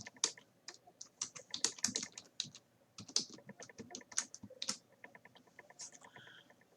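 Python code is typed on a computer keyboard, with close, quick key clicks arriving in uneven bursts and short pauses, fairly quiet, with no one speaking.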